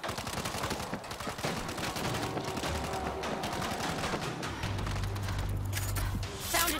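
Sustained automatic gunfire from a mounted machine gun in the zombie shooter World War Z Aftermath, a dense continuous rattle of rapid shots with game effects layered over it, loud and close throughout.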